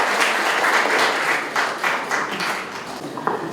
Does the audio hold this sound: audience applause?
yes